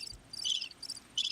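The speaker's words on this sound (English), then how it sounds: "Crickets." Crickets chirping outdoors in a backyard, bursts of high trilling in three pulses, clear and fairly close with no voices.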